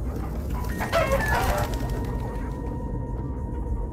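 A rooster-like crow rises briefly over a dense, busy background of game noise, followed by a steady electronic hum.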